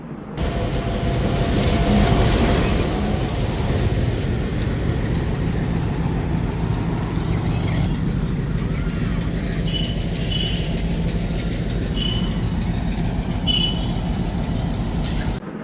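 The Rajshahi commuter train's locomotive at Rohanpur, being reversed to head back toward Rajshahi, gives a sustained, fairly loud engine and rail rumble for the full stretch, with a few faint higher squeaks later on and no clear talk.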